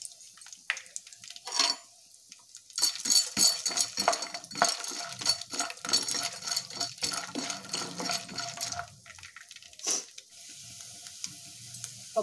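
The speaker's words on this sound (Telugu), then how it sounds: "పప్పులన్నీ బాగా ఫ్రై అయ్యాయండి" Chana dal fries in hot oil in a pan, an uneven sizzle broken by scraping stirs and clinks of a metal spoon against the pan, louder in the middle stretch.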